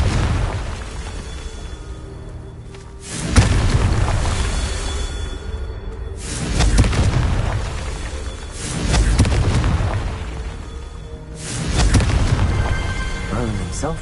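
Repeated fire-spell explosions from the Confringo curse in Hogwarts Legacy, three or four loud booming blasts spaced a few seconds apart, each swelling then rumbling away.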